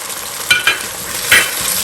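Spices and softened onions sizzle in a pan for chicken and chana dal, with a few distinct spoon scrapes against the metal over a steady frying hiss, close by and with no talking.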